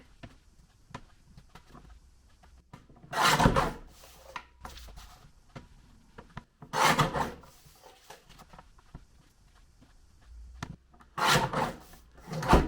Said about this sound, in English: I am just going to trim this first sheet. Just along the lines, that's all you have to do.